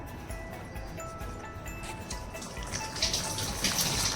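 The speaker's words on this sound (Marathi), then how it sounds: "पाणी टाकलं आपण यात" Water trickles and splashes steadily into a bowl of dog food and biscuit paste, growing louder and fuller toward the end.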